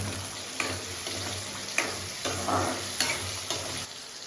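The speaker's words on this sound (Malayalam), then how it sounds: "ഒരു മഞ്ഞ കളറാവുന്ന വരെ ഒന്ന് വരട്ടിയെടുക്കണം" Garlic sautés in a pan for garlic pickle with a steady close sizzle, and a spoon stirs it in regular scraping strokes about every half second. No one speaks.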